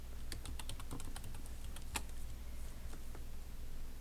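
Steady, rapid tapping on a computer keyboard, close and fairly quiet, with a few sharper key strikes standing out from the run of keystrokes.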